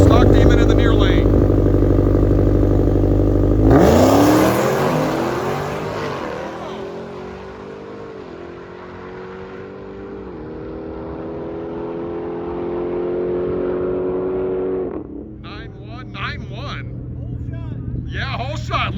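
Two Dodge Demon 170 cars launch hard at a drag strip, a sudden loud roar that fades as they pull away down the track, with a commentator talking over the engines.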